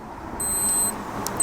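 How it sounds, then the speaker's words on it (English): A meat thermometer probe stuck into a turkey cooking on a barbecue gives thin, high beeps, a steady tone followed by a few short pips, over low background rumble. "It's beeping, that's a good sign."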